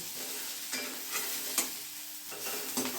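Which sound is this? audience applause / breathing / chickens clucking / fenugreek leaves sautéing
fenugreek leaves sautéing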